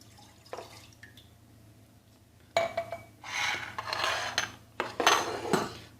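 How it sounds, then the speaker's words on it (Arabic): Milk poured into a saucepan while making a home remedy: a faint clink, then a steady splashing pour that comes in two close bursts, with no talk. "سأضع أولا الحليب"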